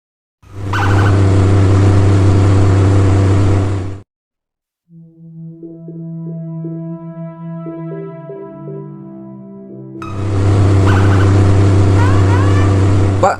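In an animated Indonesian drama, a car drives off in two loud, sustained bursts of engine roar and road noise, with a quieter tonal music-like passage in between.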